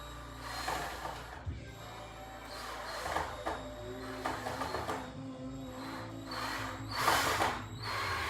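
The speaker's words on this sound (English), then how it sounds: "So you just want to screw the handle in." A power drill or driver runs in repeated bursts, driving screws to fasten a handle onto a DIY travel case. The motor whines rise and fall in close, moderately loud spurts with brief pauses between them.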